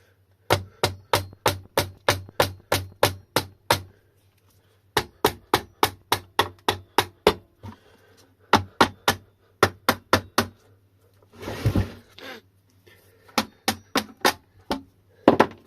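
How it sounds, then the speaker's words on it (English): Loud, sharp hammer blows strike in quick bursts of steady rhythm, separated by short pauses, with a brief scraping rustle partway through. "I have here the world's largest hammer."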